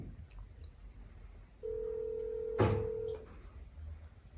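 A single steady telephone tone, held for about a second and a half, with a sharp click or knock partway through, heard faintly over quiet background noise.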